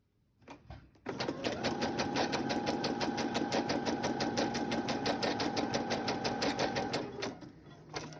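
A sewing machine stitches steadily around a paper envelope, its rapid mechanical whir running continuously for about six seconds after a short pause and a brief handling sound, close and clear with no talk.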